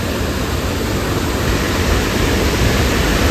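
Water gushing with heavy force at the Mookana Mane viewpoint during rain, a dense, loud, unbroken roar heard up close with no voices.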